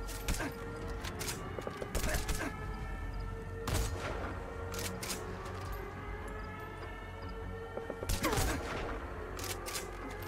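Enemy gunfire in the video game Metal Gear Solid 5: The Phantom Pain, with sharp shots and short bursts cracking at intervals over a constant droning background.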